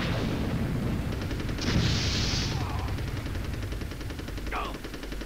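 Rapid gunfire from Army Men: Sarge's Heroes strikes the player in a video game battle, a dense crackling barrage running throughout with a brief louder burst, mixed with game sounds and a voice speaking over it.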